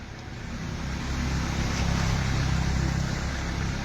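Dense road traffic jammed around a Maratha protest gathering, heard as a continuous, steady roar of many vehicles that swells slightly and holds, with no voices standing out.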